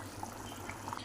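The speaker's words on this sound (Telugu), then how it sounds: "ఒక గ్లాస్ నీళ్ళు వేసి ఉడకనివ్వాలి." A pot of water boils steadily for a brinjal and tamarind-leaf curry, giving a soft continuous bubbling with small pops.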